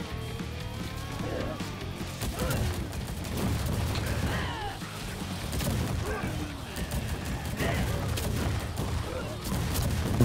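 Shotgun blasts and other gunfire burst out in the video game Welcome to ParadiZe during a horde-mode fight, loud and repeated over a dense, busy game mix while players talk throughout.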